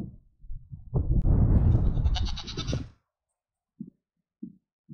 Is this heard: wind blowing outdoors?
no